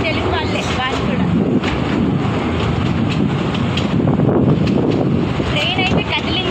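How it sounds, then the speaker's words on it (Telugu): A train starts to pull away on a journey from Mysore toward Srikakulam, giving a steady, loud rumble with wind buffeting the microphone while voices talk over it. "ట్రైన్ అయితే కదిలింది చూడండి."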